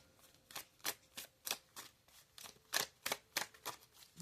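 Oracle cards are shuffled in a series of quick, crisp riffling bursts at a steady rhythm, quiet and close, with no voices.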